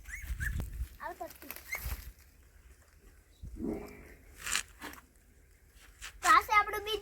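A small puppy whimpers and yips in short high cries scattered through the stretch, close by, with people talking around it.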